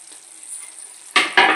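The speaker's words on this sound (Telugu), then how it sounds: "ఇప్పుడు కొద్దిగా కరివేపాకు వేసుకొని దించేసుకుందాము." Curry leaves hit hot oil in phool makhana curry with two sharp bursts of loud sizzling late on, after a soft low hiss of frying.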